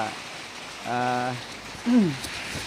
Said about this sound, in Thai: ฝนมันชอบตกนะชอบมา ก็เอาก็เอาเป็นว่าฟังเสียงฝนไปด้วยนะ